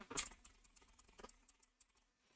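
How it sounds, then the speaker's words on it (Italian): A search is typed on a computer keyboard in a quiet room: a quick burst of close, crisp keystrokes followed by sparser taps that trail off. "nel motore di ricerca andremo a digitare Gentiluomo Digitale."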